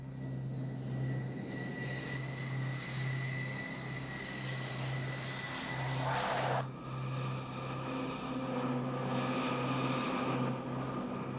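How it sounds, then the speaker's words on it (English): A McDonnell Douglas F/A-18 Hornet, the US Navy's carrier strike jet, produces a steady, moderately loud engine drone with a short, louder rushing swell partway through. No one speaks. "The versatile McDonnell Douglas FA-18 Hornet is now the US Navy's most important strike aircraft"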